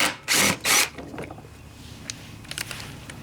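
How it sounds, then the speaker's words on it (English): A 3/8 socket ratchet works at rusty bolts on a Troy-Bilt lawnmower: two loud bursts of rapid clicking up front, then sparse lighter clicks and metallic taps close by. "So I have my 3/8 size socket to take these off"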